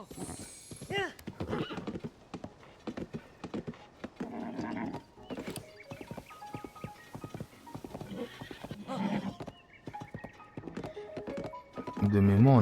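A horse's hooves clip-clop in Zelda: Tears of the Kingdom, rhythmic thuds mixed with game effects and a whinny, while someone talks over them for much of the time.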